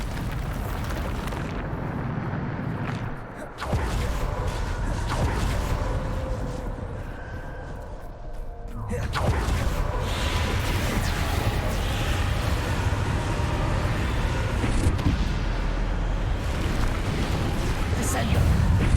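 Spell effects in a Harry Potter video game: loud, heavy blasts and rumbling explosions with debris and mechanical clatter, layered over a continuous roar, while a voice calls out spell names.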